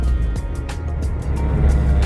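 A classic 1980 Toyota Corona driving, with a steady, loud low engine and road rumble running throughout, and faint brief voices underneath.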